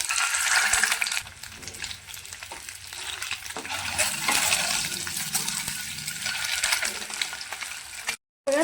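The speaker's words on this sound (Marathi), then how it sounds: "तर आता हे अंडे आपण तेलामध्ये फ्राय करून घेऊया" Eggs fry in hot oil in a pan, making a steady, fairly loud sizzle that swells and fades, with a brief cut near the end.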